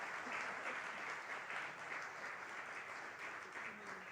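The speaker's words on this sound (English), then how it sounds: "A round of applause for these two beautiful ladies." An audience at a 100-day AAD countdown and launch event applauds steadily, a dense wash of clapping that holds at an even level throughout.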